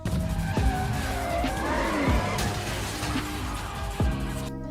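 Engine roar and tire squeal from Han's fully built Nissan S15 drift car skidding in the game Pixel Car Racer, a steady loud drone with sweeping pitch slides and a few sharp bursts, no talking.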